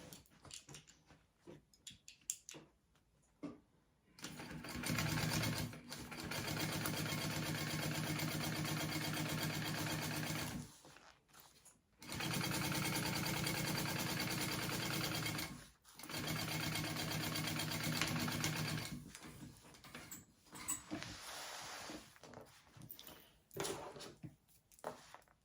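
Sewing machine stitching a 3/8 seam allowance on fringed fabric, three sustained runs of steady mechanical whirring separated by short stops, with quieter handling noises before and after.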